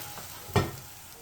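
Garlic dropped into a pan of frying curry gives a brief sharp sizzle that flares up and quickly settles back into a soft, steady frying hiss, with no talking.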